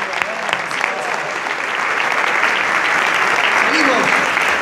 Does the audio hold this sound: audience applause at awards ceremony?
yes